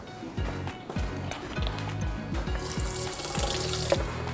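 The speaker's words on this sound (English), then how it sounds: "I'm just gonna take these over to the sink and just rinse these off really quick" Cashews are rinsed under a kitchen sink tap, running water splashing steadily and close, with a rhythmic series of rushes as the nuts are shaken under the stream.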